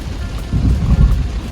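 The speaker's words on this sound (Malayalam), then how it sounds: "അതിശക്തമായ മഴ നേരത്തെ കണ്ടതിനേക്കാളും നല്ല ശക്തമായ മഴയാണ്" Heavy rain falls in Saudi Arabia as a dense, loud roaring wash, steady throughout with a low rumbling undertone like wind buffeting the microphone, and no talking.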